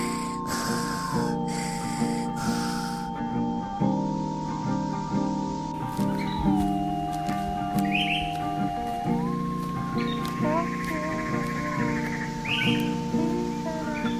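Pet crows calling close by, a run of harsh caws and chirpy whistled notes over a steady background hum, with no talking.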